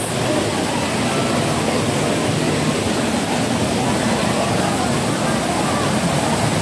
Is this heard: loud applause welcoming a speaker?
no